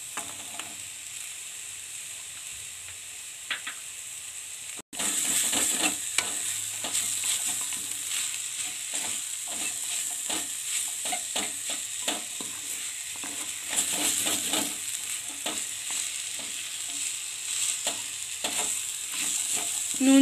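Green peas frying in a pan with sugar and salt, a continuous soft sizzle with repeated scraping stirs, starting after a brief quiet moment and staying steady and close.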